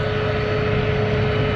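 A steady, loud mechanical drone of road construction machinery with a constant hum and rumbling undertone, continuous throughout with no voices.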